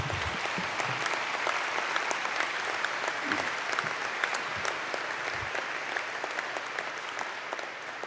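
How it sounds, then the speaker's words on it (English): A graduation audience applauds steadily at an evening ceremony in Richfield, a dense, sustained wash of many hands clapping with no voices over it. "You may clap now."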